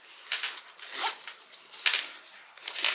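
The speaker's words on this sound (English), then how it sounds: "So just going to have to really pull the zipper over." Zipper on a Compton Carryall fabric bag pulled in several short, scratchy bursts, close up and fairly loud, with brief pauses between pulls.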